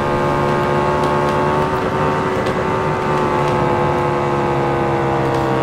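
Harley and Royal Enfield Bullet motorcycles run side by side in a drag race, their exhausts a steady, smooth, continuous drone at a constant pitch, loud and close, with no voices.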